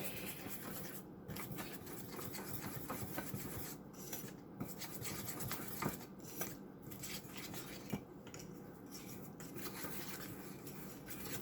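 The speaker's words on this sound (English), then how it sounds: "I'm going to whisk it all together." A whisk scrapes and rubs quietly against a bowl as flour and egg paste are mixed, giving a soft continuous rasp with small clinks and brief pauses.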